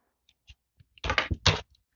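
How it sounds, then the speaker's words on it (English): A die-cutting machine creaks and cracks as plates are cranked through it for card making, giving a few short, close, loud bursts of strained grinding with no talking. "I'll crank through, creak and crack. That's all quite normal."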